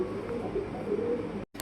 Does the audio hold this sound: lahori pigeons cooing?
yes